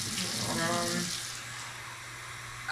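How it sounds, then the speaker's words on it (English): Water pours from a tap into a full cooking pot, a brief rushing splash that fades off, with a voice speaking over the start. "And we're going to add some water."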